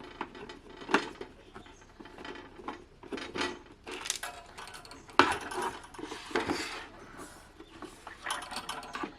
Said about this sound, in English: get these bloody screws out